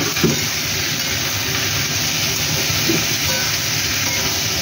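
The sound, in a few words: salted paneer frying in pan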